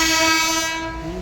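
A goods train's horn blares loud and sustained with a rich tone as the train passes close by, fading slightly toward the end over the rumble of the wagons.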